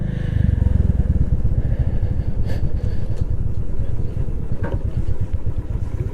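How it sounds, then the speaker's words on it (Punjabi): A motorcycle being parked at Gurudwara Shri Pathar Sahib, its engine running loud and close with a steady chugging idle and a few light clatters throughout. "ਇੱਥੇ ਹੁਣ ਬਾਈਕ ਕਰਦੇ ਹਾਂ ਪਾਰਕ"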